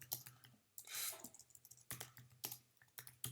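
Keystrokes on a computer keyboard as a value is typed into a C++ application, heard as bursts of close, crisp clicks with short pauses between them, alone without voices.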